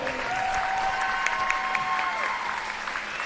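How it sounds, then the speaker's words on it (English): Steady applause from a high school volleyball crowd honoring seniors fills the gym, continuous and moderately loud, with a tone sustained faintly underneath. "Let's give these seniors a big round of applause."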